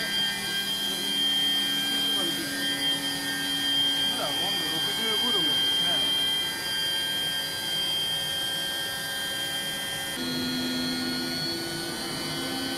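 An electric vehicle motor spins up past 12,000 RPM, giving a loud, steady high-pitched whine with a hum beneath it and a shift in tone near the end.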